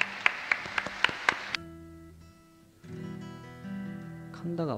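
A 1976 concert audience at the Hokkaido Kosei Nenkin Kaikan in Sapporo gives a short burst of scattered, sharp claps that quickly dies away. Sustained guitar-like tones ring out alone after it.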